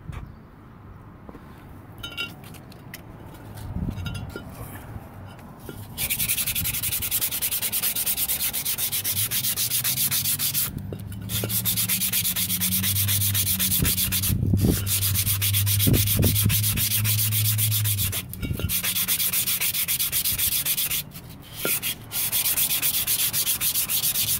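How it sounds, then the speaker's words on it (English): Emery cloth rubs against a brake part in a steady, harsh scraping rhythm, starting quietly and then running loud and continuous with brief pauses between strokes. "Make sure you go with emery cloth. It's a lot more durable than sandpaper."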